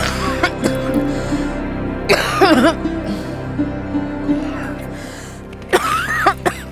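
An elderly woman in a dramatized household scene coughs in two rough, wheezy bouts a few seconds apart, close and loud over a low music bed.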